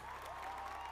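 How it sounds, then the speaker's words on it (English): Audience applause at the close of a live coding stream session, a steady wash of clapping filling the whole second at a faint, distant level. "Round of applause."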